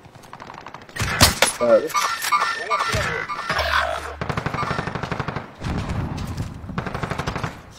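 Rapid bursts of automatic gunfire and sniper shots in a shooter video game, loud and repeated, mixed with game effects while someone talks over them.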